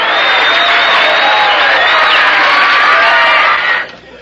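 Canned crowd pandemonium from an old laugh-track tape: a dense, loud roar of cheering, shouts and whoops that holds steady for about four seconds, then drops away sharply near the end.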